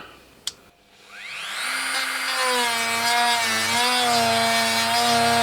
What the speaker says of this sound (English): I've just got standard sanding disc in my Dremel, and I'm just going to slowly go around